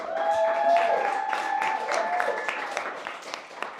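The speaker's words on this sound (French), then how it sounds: "on peut s'applaudir bien fort pour de vrai." An audience claps at a French entrepreneurship event, a dense round of applause with sustained tones and voices over it, strongest at first and then thinning to scattered claps.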